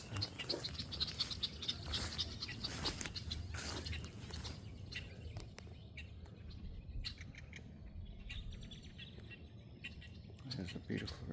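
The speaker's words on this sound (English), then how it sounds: "there's red-winged blackbirds" Red-winged blackbirds and starlings call and chirp along a walking trail, with scattered bird notes and trills over wind and footsteps, and someone speaks faintly in between.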